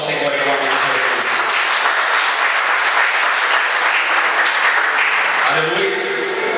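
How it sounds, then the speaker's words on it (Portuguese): Church congregation applauding together, a steady dense wash of clapping filling the room at close range, sustained throughout with a slight fade near the end. "Aplauda o Senhor em nome de Jesus."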